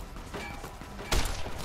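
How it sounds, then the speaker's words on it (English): Gunfire in Fallout: New Vegas, a distant burst of shots under steady game ambience with one sharper, louder crack near the end. "We got some caution and some gunshots somewhere."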